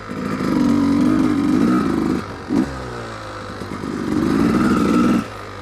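Dirt bike engine revving hard in second gear on the run-up before a steep hill climb, two long loud throttle bursts with a brief blip between, close by.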